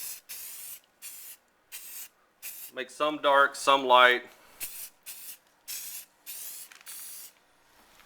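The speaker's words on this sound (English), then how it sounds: "you just simply take your black paint and find the grout lines and just spray." Short bursts of black spray paint hiss from an aerosol can in a steady on-off rhythm, close by, sprayed into grout lines of a Halloween cemetery wall prop, pausing while a person speaks briefly in the middle.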